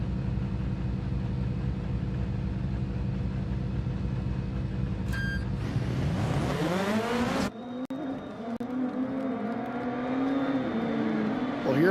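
Rallycross race cars in the Dirt Rally 2.0 video game on the Hell circuit rev hard and accelerate off the start. A steady engine drone rises into climbing gear-change whines from several cars, and commentary talk runs underneath.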